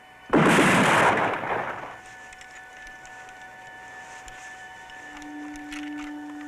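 A firing squad's volley rings out in a 1977 horror film, one loud simultaneous blast followed by a decaying rumble and a faint lingering hum.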